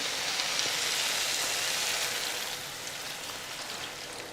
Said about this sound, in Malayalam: തേങ്ങാപ്പാൽ തിളയ്ക്കാൻ തുടങ്ങിയിട്ടുണ്ട്.